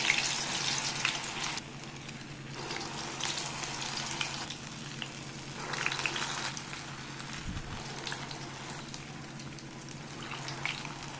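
Urad dal bondas fry in hot oil with a close, continuous bubbling sizzle that swells into louder crackling bursts at intervals, and a brief clunk of utensils partway through.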